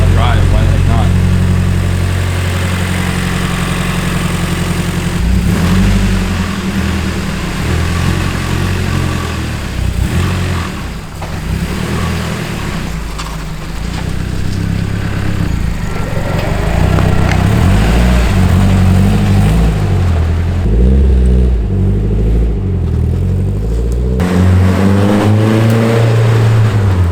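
Car engine warming up and idling after work on it, a steady low rumble with some wavering revs, loud and close throughout, with people talking over it at times.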